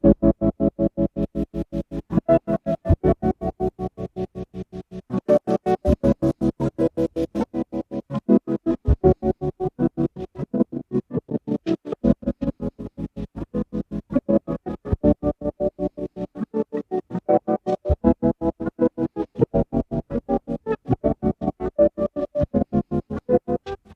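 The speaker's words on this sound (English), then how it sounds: "I really like this plugin to basically take away some of the fidelity of sounds." A rhythmic musical loop with a warbly, degraded lo-fi tape character, steady pulsing beats and muffled tones throughout, no voices.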